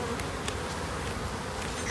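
Honeybees buzz steadily at an opened beehive during a February hive inspection, a dense, continuous close hum with no voices.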